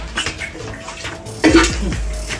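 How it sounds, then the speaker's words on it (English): Hot water is poured from a container with a splashing gush that starts abruptly midway, preceded by light clinks and handling noises on a film set. "Let me pour more in it."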